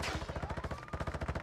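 Rapid automatic gunfire from a Warzone match, a tight burst of about twenty evenly spaced shots in under two seconds, loud and close.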